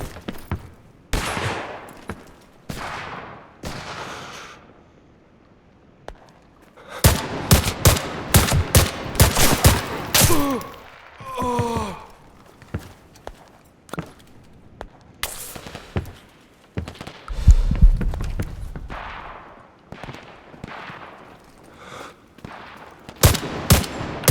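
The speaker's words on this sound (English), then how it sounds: "Am I getting shot at?" Video game gunfire from a shooter, arriving as bursts of automatic and single shots spread across the stretch, some loud and close, others farther off, with quieter gaps between volleys.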